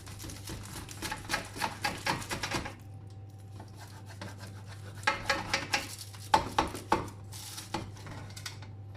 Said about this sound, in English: We're going to cut it in half and serve it up in a plate.